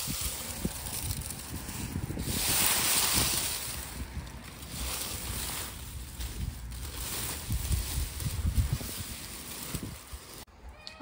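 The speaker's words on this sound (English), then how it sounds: "We have, the wind." Autumn wind blowing outdoors, a broad rushing roar with gusts and buffeting against the microphone, close and fairly loud, with scattered rustling and handling noises throughout.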